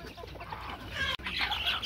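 Chickens and roosters cluck together on a Golden Misri hen farm in Pakistan. The clucking is continuous and mid-distance, with a soft, brief flutter of wings and no talking.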